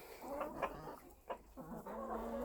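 Chickens clucking nearby in short, irregular bursts, with a steady low rumble of background noise underneath.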